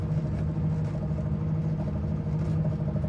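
Hot-rodded BMW 2002 engine running while the car drives, a steady low hum with a slight uneven throb, moderately loud and close.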